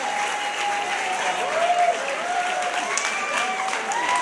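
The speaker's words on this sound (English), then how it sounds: "Nice round of applause for both our boxers." A crowd at an amateur boxing show in 2018 claps for both boxers, with steady, dense applause filling the hall throughout and a few faint whistles and cheers rising above it.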